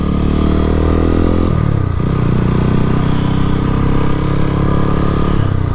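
A Lifan KPT 150 V2 ABS motorcycle exhaust while riding: a loud, continuous engine drone that drops in pitch around the two-second mark, then holds steady and close.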